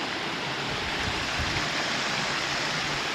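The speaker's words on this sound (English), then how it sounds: "I somehow get across this running stream." A running stream or river along the Kekekabic Trail in the Boundary Waters wilderness, near a beaver dam, makes a steady, loud, broadband rush of flowing water with no pauses and no talk.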